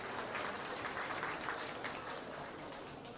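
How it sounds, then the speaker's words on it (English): Spectators around a livestock show ring at a county buckwheat festival clap after a calf class is judged, a fairly faint, even patter of applause from a modest crowd. "Let's give him all a round of applause."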